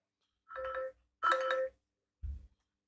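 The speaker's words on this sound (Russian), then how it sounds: "Рингтоны." Short ringtone previews from a Xiaomi Redmi 4A phone: two brief melodic electronic chimes in quick succession, followed by a lower, duller blip, each clipped short with silence between, close and clear.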